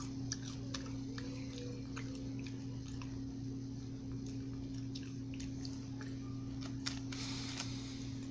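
Sharp, crisp crunches of chewing a brown rice chocolate rice cake come in a quick irregular series, close and fairly loud, over a steady low electrical hum.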